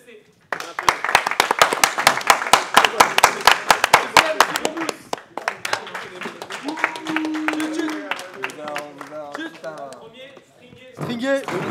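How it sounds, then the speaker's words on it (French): Applause breaks out for the third-placed team at a football squad's team-building weekend, a dense burst of clapping that thins into scattered claps while people talk and laugh over it. "On va applaudir troisième équipe, Tribune FC."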